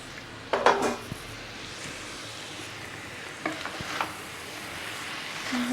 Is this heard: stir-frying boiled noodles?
yes